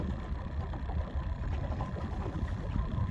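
A fishing boat idles on the water during crappie spider rigging, giving a steady low engine rumble with a dense, even texture throughout.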